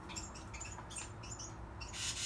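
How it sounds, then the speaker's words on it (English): Bewick's wren chicks that can barely fly give high, thin chirps in short repeated bursts, close by, with a brighter squawking flurry near the end. "They're chirping, little chicks are chirping."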